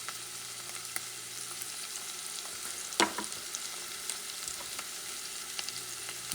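A spoonful of tomato paste is stirred into a frying pot for Dominican beans, giving a soft steady sizzle with light spoon scrapes and one sharp metallic clank partway through.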